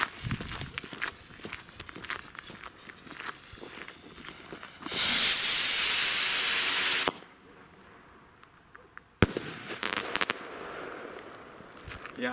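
A WECO firework rocket launches with a rising hiss that roars for a couple of seconds, then goes quiet before a single sharp bang, followed by faint crackles.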